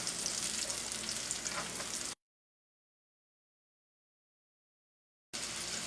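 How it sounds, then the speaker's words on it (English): A quarter onion sautéing in melted butter in a pan over medium heat gives a steady, close hiss of frying, broken by a few seconds of silence partway through. "We're just going to saute that over medium heat while the pierogies cook."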